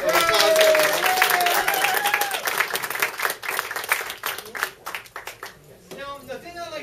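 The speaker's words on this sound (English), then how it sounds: "Let's give a good big round of applause." Applause and clapping from a live audience at a variety show, a dense burst that fades over a few seconds and breaks into scattered claps, with voices and cheering mixed in toward the end.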